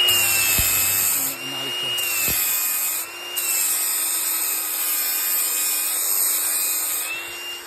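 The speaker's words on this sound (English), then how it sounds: "I've just put a brand new 40 grit flap disc on by our friends at Kingspor." An angle grinder fitted with a fresh 40-grit flap disc sands the flat edges of a workpiece, giving a steady, loud, high-pitched whine with slight dips in pitch as the disc bites, running continuously up close.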